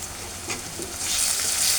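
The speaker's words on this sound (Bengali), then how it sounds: "আমি কিছুটা আদা রসুন বাটা দিয়ে দিলাম।" Ginger garlic paste and spices fry in a pan for a bottle gourd and catla fish curry, a close crackling sizzle with brief stirring scrapes that swells louder in the second half.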